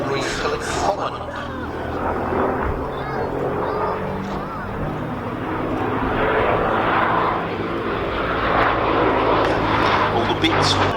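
Engine of a 1930s Gloster Gladiator biplane fighter at a vintage airshow, a steady, loud rumbling drone that swells slightly, with a voice talking over it.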